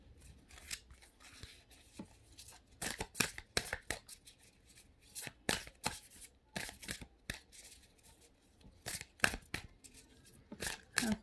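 Oracle cards, including archangel and romance angel decks, shuffled by hand for a tarot reading, giving repeated quick papery riffles and flicks in bursts, fairly close and quiet, with no talk over them.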